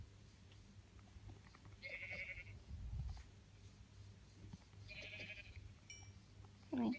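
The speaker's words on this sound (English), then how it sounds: "Just kill these sheep so I can get some wool for some beds." Sheep in the Minecraft video game bleat twice, a pair of short bleats a few seconds apart over a quiet background, with a low thump between them.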